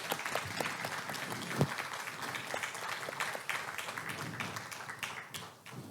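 A seated audience at a research and administration award ceremony gives a sustained round of applause, dense overlapping clapping at moderate level that thins out and fades in the final second.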